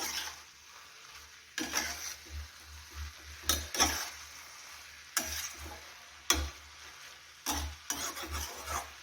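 Potato pieces are stirred into fenugreek (methi) bhaji frying in a pan, with several bursts of scraping spatula strokes over a faint, quiet sizzle. The stirring comes in irregular, close-up pulses, and no voice is heard.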